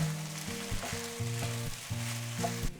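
Kimchi fried rice with bacon and chili sizzles loudly in a hot pan, with steady frying hiss and intermittent scraping stir strokes throughout.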